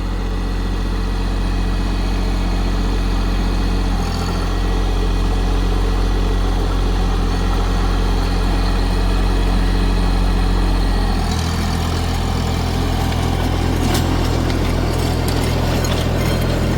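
A Farmtrac Atom 30 tractor engine idles in a banana field, a steady, loud, low, smooth hum with a slight shift in tone partway through and no talking.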